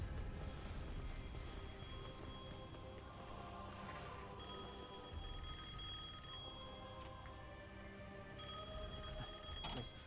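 A telephone rings in the Devil May Cry 5 video game, its repeated bright electronic tones sounding over a busy, dense layer of game sound.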